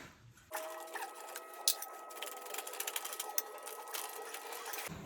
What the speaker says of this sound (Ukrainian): Ще зараз буду показувати, як свердлю.